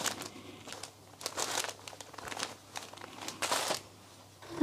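Cotton wool pleat being pulled apart and handled for a craft, giving soft close crinkly rustling and tearing bursts with short pauses between, no talking.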